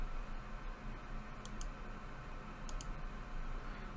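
Mouse clicks in Metahuman animation retargeting software: two quick pairs of sharp clicks spaced about a second apart over a steady, faint background hiss.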